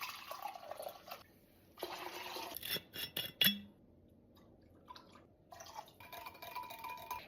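Citrus vodka and orange liqueur are poured into a gelatin mixture in short, intermittent splashing bursts, close and moderately loud, with faint glass and utensil clinks between pours and no talking.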